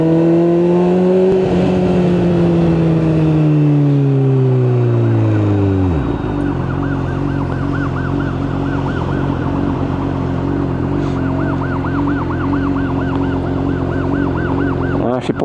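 Loud emergency sirens from an ambulance and a police car pass close by, one wail sweeping down in pitch before a rapid warbling siren takes over and continues steadily to the end.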